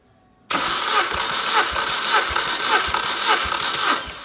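A 1.4-litre A14XER petrol engine in an Opel Meriva B turns over on the starter during a first-cylinder compression test. A close, loud, steady whir carries even compression pulses about every 0.6 seconds, with no one talking.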